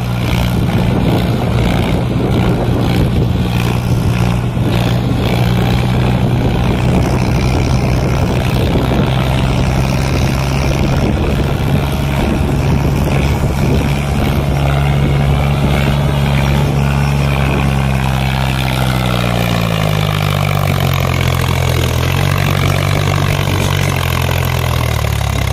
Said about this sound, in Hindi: ट्रैक्टर है महिंद्रा 265।